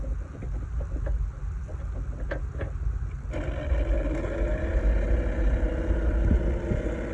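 Blower motor in a 1992-1996 OBS Ford truck with a bad motor connection, a faint hum with small clicks that abruptly switches on into a louder steady whirring drone.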